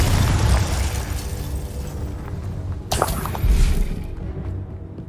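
Explosions from the Confringo spell in Hogwarts Legacy give a loud, continuous rumbling roar, with a sharper burst near the middle and a heavy boom just after, then fade into quieter rumble.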